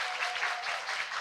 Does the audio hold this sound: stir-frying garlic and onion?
no